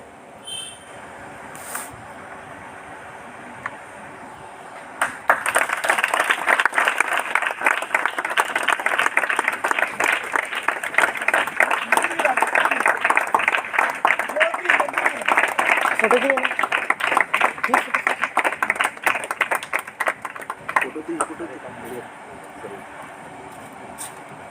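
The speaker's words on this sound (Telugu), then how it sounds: "కొడదాం, చప్పట్లు కొడదాం" Church congregation clapping at a Good Friday evening service, starting after some quiet talk, then a long loud dense burst of many hands that fades into scattered claps, with voices underneath.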